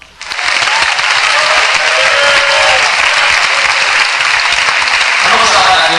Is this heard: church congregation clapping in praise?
yes